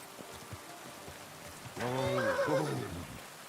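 A horse whinnies loudly in Kingdom Come: Deliverance II, a rising, wavering neigh that enters halfway through over a steady hiss of rain.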